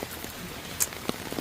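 Light rain patters softly and steadily on surfaces, faint and brief, with a few slightly sharper drops standing out.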